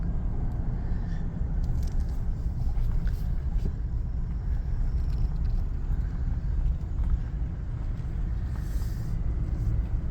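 A car driving slowly through a residential neighborhood, heard from inside as a steady, continuous engine and road rumble with no talking.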